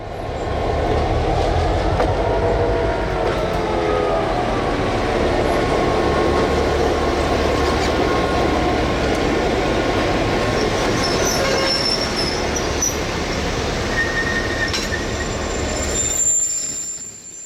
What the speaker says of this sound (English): the NX-10 cuts the center beams and pulls the boxcar ahead of the switch of the Chepag Spur